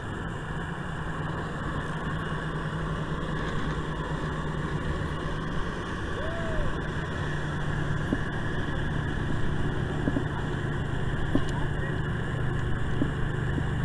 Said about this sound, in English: And here comes a boat, of course.